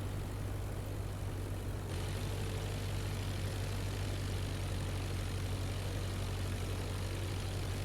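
In the IL-2 Flying Circus flight simulator, a propeller aircraft engine drones steadily during a crosswind landing approach, a constant close hum with no talk.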